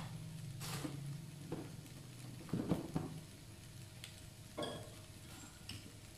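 Beef fried rice is stir-fried with sugar in a pan, giving soft sizzling with intermittent scraping and tossing strokes, fairly quiet and close, with no talking.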